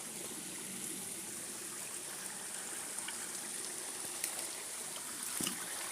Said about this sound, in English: That's the end of the waterfall.